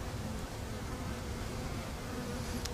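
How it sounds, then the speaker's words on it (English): A swarm of honeybees clustered in town hums in a dense, steady drone, close and continuous throughout, with no voices over it. "this is a swarm still waiting to swarm"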